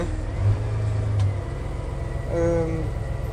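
A Case Maxxum 5140 tractor's engine idles steadily as the hand throttle is worked, giving a continuous close drone that swells briefly a few times.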